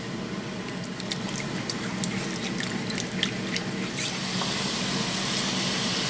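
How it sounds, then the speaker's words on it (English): Gravy made from leftover meatball grease simmers in a pan with soft popping and spattering bubbles over a low, steady hiss, close and fairly quiet, with no voices. "So let's make some gravy. Now we're going to bring that up to a simmer."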